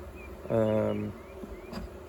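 Honey bees hum in an open hive, a close, steady buzz rising to a louder swell for about half a second, with a faint voice nearby.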